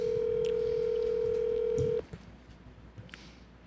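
A phone call being placed: a steady, loud tone holds for about two seconds, then cuts off into quiet room sound, with no voices.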